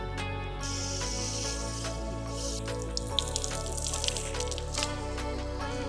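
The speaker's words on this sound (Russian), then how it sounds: "Сейчас мы с вами проверим, работает ли душ на этом пляже." An outdoor beach shower on the Bulgarian coast runs with a steady splashing stream of water, close and continuous, over a low hum, and no one speaks.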